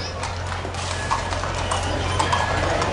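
Horse hooves clip-clop on pavement in an Independence Day parade in Oakville, Washington, a busy, steady patter of many hooves over crowd murmur and outdoor noise.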